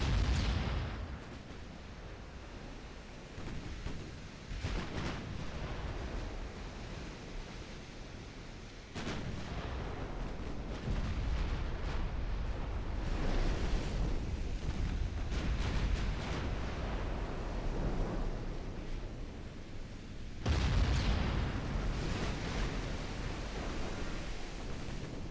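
Naval battle in the Ultimate Admiral Dreadnoughts game, 1904, the Battle of Singapore: 11-inch guns fire and shells strike ships, with heavy booming salvos and rumbling blasts rolling into a continuous roar of gunfire, no voices.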